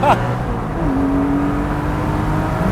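Porsche 718 Spyder with a Cargraphic x-pipe race exhaust under heavy braking and a downshift: a sharp blip at the start, then a steady, close engine drone while the engine settles to a lower note.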